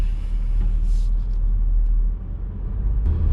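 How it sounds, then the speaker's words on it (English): A 2019 Porsche Macan S pulls away with a loud, steady low engine rumble that holds for a few seconds, then briefly dips and swells again near the end. "Driving the Macan S."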